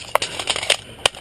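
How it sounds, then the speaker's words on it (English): An airsoft gun is reloaded during an outdoor airsoft battle. A quick burst of close plastic clicks and rattles follows a few sharp snaps in about a second. "I'm reloading."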